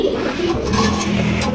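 Lahori pigeons coo softly at a bird market, low murmuring calls blending with a steady background hum of the surroundings over a short span.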